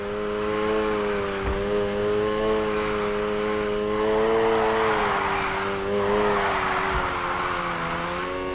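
A car drifting in Need for Speed Heat, with a steady high engine drone and a long tire squeal that rises and wavers, swelling loud through the middle with a few thumps, no voices.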